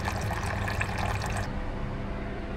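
Water poured into a dog's bowl inside a truck camper, a steady close splashing fill for about a second and a half that then cuts to a quieter hum of a running fan.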